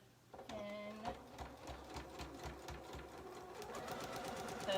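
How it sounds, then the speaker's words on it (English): A sewing machine runs a straight stitch joining a waistband to its lining, a steady, close, rhythmic mechanical whir that starts after a brief pause and continues alone throughout. "we're going to sew the top of the waistband and waistband lining together all the way around. And just with the straight stitch."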